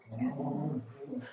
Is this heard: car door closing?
no